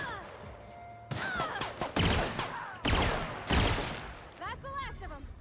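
Bursts of gunfire in The Outer Worlds, several loud volleys and single shots in quick succession, close and punchy, with a voice talking between them.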